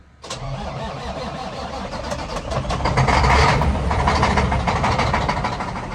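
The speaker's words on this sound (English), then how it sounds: "So let's get this started and put it in the shop." A 1980 Peterbilt 359 truck's diesel engine cranks and fires, catching into a loud, close idle that swells briefly and then settles into a steady rumble.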